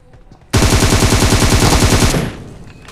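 A rapid burst of Uzi fire in a battle-royale video game, a loud dense rattle of shots lasting about a second and a half that starts abruptly and cuts off into a brief fading echo.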